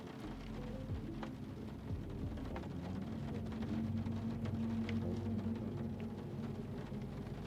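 Rain and thunder ambience in a nighttime VR game: steady loud rainfall patters throughout, with low rolling thunder rumbling underneath and no voices.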